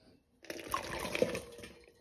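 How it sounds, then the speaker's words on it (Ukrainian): Grape must for homemade wine pours into a well-washed glass bottle, a steady liquid gurgle and splash lasting about a second and a half after a short silence, close and moderately loud with no talk. "Отримане сусло заливаємо у кляний бутиль, вимитий гарно."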